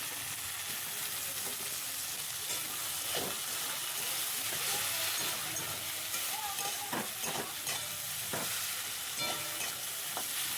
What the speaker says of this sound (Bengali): পেঁয়াজটা মোটামুটি এখন ভাজা হয়ে গেছে, দিয়ে দিলাম টমেটো কুচি।